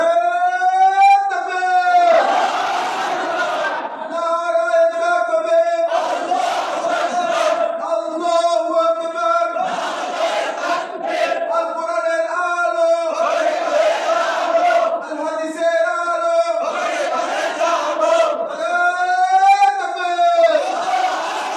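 Crowd at a Sirat-un-Nabi religious gathering in Bangladesh shouting takbir, loud massed voices rising in repeated chant-like waves and answering calls, filling the space.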